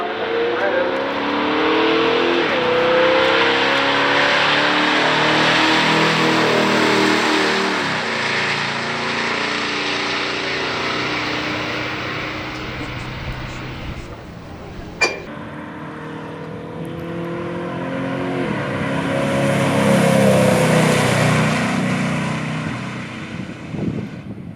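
A 1973 Buick Riviera making a solo drag-strip run in a pure stock drag race, its engine roaring and swelling as it accelerates away and then passes, loud and sustained, with a voice talking over it.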